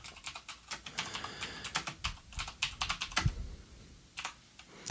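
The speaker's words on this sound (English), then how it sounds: "I'll type a message" Fingers type on a computer keyboard in quick, uneven bursts of clicks and taps that are close and fairly quiet, with one louder keystroke near the end and no talking.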